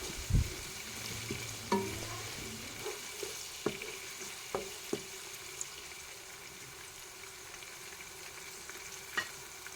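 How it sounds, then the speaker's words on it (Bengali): Chopped onion and garlic sizzle softly in a pan while a utensil stirs them, with a steady frying hiss broken by scattered scraping clicks and taps; no one speaks. "এবার সব কিছু একসাথে নেড়ে চেড়ে নিচ্ছি, কিছুক্ষণ কষায় নিচ্ছি, ভেজে নিচ্ছি পেঁয়াজ রসুন একসাথে"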